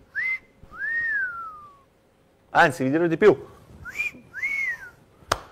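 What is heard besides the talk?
person whistling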